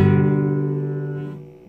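A single acoustic guitar chord from a song is strummed once and left to ring, its tone clear and close, fading steadily over under two seconds with no voice over it.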